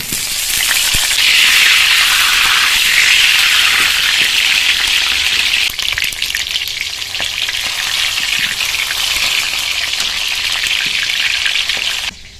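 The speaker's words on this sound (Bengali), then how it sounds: "তেলটা গরম হয়ে গেলে এবার কেটে রাখা পেঁয়াজগুলো এর মধ্যে দিয়ে কিন্তু ভেজে নেব।" Chopped onions frying in hot white oil in a pan give a steady, loud, close sizzle that hisses continuously without pause and fades only slightly at the end.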